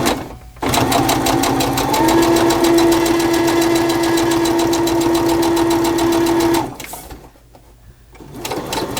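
A sewing machine stitches through a junk journal tea bag and ephemera holder, running in a steady, close mechanical whir for several seconds before stopping, with a quieter room hum afterward.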